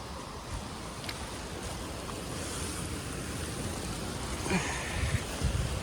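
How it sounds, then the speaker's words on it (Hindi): Water rushes steadily beneath a mountain trekking path on the Shrikhand Mahadev pilgrimage route, a faint continuous wash mixed with wind and a few soft knocks near the end. "इसके नीचे से पूरा आपका जो है पानी बह रहा है"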